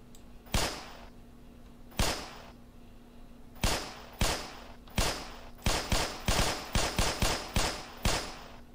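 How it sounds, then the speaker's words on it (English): Gunshots in the Roblox game The Hood ring out as sharp single reports, sparse at first and then in a rapid uneven burst, loud and close with no talking. "Just keep shooting."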